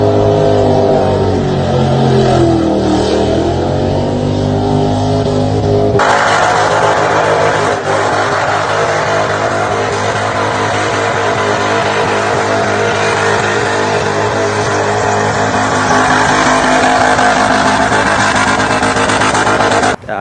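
A 1982 Holden WB one-tonner burnout car's engine held at loud, sustained high revs, its pitch sweeping down then jumping into a harsh, steady roar that continues without a break.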